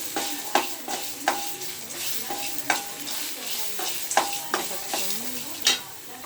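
Chopped coconut pieces frying in a pan for chicken curry, with a soft continuous sizzle broken by repeated sharp scraping taps of a spatula stirring.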